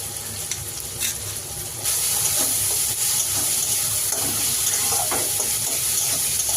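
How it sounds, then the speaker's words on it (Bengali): Turmeric, cumin and Kashmiri chilli powder with ginger-garlic paste frying in oil for a fish curry, a steady close hiss of sizzling that grows louder partway through, with occasional light clinks and stirring. "আমার মশলাটা সুন্দর করে ভাজা হয়ে গেছে, আর মশলা থেকে তেলও ছেড়ে দিয়েছে।"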